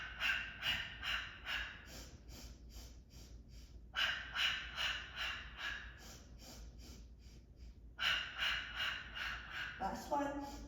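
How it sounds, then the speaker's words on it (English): Pilates sniffing breath: a run of quick, close nasal sniffs drawn in through the nose in short pulses, each set followed by a longer breath out through the mouth, repeating in a steady rhythm. "It's called the sniffing breath."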